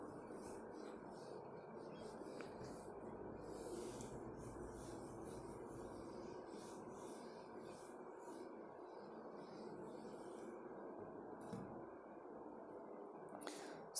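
A duster wipes chalk writing off a classroom board in repeated soft, scratchy strokes, faint and steady, with no talking over it.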